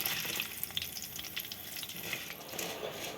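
Sago bhujia deep-frying in hot oil over low to medium heat, a steady close crackling sizzle with fine bursts of bubbling throughout, no talking.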